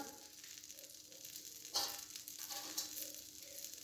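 Cumin seeds sizzle in hot mustard oil in a pan, giving a soft, continuous crackling hiss with a couple of light taps, faint and close, with no talking.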